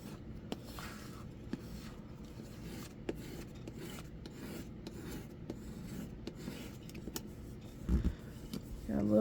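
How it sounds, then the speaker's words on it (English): Steady rubbing and rasping as a metal die holder surface is burnished by hand, a continuous scratchy texture with a few small taps, moderately close, with a louder knock near the end. "just give it a nice even burnish, just like so"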